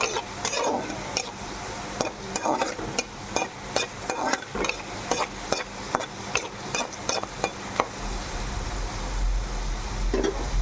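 Tempering of garlic, chili and curry leaves sizzles in a pan while a spoon stirs and taps against the metal in quick repeated clicks, close and steady over a continuous frying hiss.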